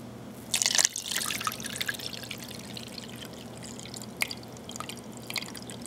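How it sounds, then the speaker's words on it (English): Millet whey, a mix of water and whey, poured out of a calabash, giving a short burst of splashing followed by a steady faint trickle and scattered drips, close by and with no talking. "So let me pour this out here"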